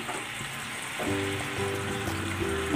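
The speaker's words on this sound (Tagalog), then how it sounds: "At magdadagdag ako ng tubig." Water is poured into a hot pan of sauce made with honey and pepper, raising a steady sizzling hiss and bubbling with faint tonal notes, close and continuous with no talk.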